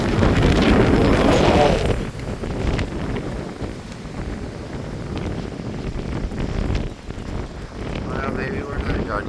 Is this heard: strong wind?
yes